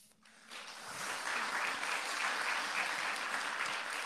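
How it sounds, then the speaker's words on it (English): Applause at a roundtable event for the panelists swells in after a brief quiet start and holds as a steady, moderately faint wash of clapping from a room audience. "I think they earned a big round of applause."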